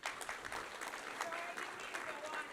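An audience at a small business town hall breaks into applause, a brief, fairly faint and steady patter of many hands clapping in a room.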